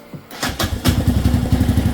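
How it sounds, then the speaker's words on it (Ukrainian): A moped with a 166 engine, on a Geon Terrax 250, cranks briefly and fires up, then settles into a steady, close, rapid putter of idling with no voices. "Зараз запустимось і послухаємо, як він робить ра-та-та."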